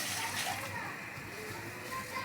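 Water splashes and sloshes as it is poured into a cooking pot while a kalamyas (bilimbi) vegetable dish is being prepared, with a voice speaking over the pour.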